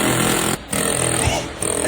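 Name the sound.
air hammer power tool running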